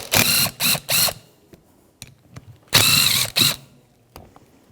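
A ratchet with a 14mm socket works on a Jeep Patriot brake caliper, giving two bursts of quick, loud clicking strokes separated by faint taps, close up and with no talking.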